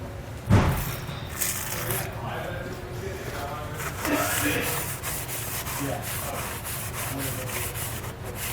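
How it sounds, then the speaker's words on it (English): A rag rubs around the friction surface of a Kodiak trailer disc brake rotor, with continuous scrubbing and a sharp knock near the start, while someone talks over it. "I want to clean all the way around the friction surface, because we don't want any kind of oil, grease, or anything else getting on the surface"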